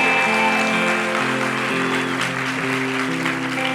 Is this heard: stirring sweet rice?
no